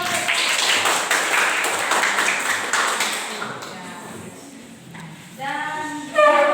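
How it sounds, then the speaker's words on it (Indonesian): A group applauds briefly for a presenting team in a classroom, a short burst of clapping that fades under a teacher's voice, followed by taps and faint pings near the end. "Tepuk tangan buat kelompok."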